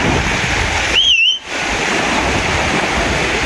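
Steady roar of Adriatic sea surf washing onto the beach at Bibione, Italy, with a brief two-note whistle cutting through in the distance.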